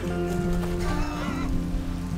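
Steady rain patters close by with a constant hiss, joined by a few faint tonal sounds in the background.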